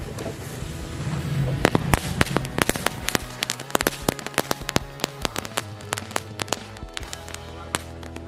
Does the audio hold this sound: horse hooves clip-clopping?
no